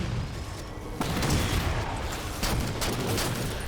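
Dense, loud combat noise from the Halo 4 campaign, with a grenade blast landing amid a continuous roar of rapid gunfire and booming impacts that swell twice.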